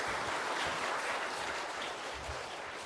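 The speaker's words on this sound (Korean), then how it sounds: "우리 박수로 환영하시기 바랍니다." A church congregation claps in welcome for a visiting preacher, a dense, steady wash of applause from many hands that carries on throughout.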